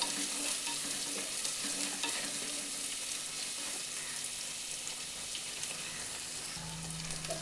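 Onions for a fish curry sautéing and being stirred in a pan, a steady dense sizzle with scraping stir sounds throughout, no voices.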